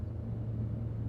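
Steady low road rumble inside a moving car on the way to a festival, a continuous engine and tyre drone with no speech.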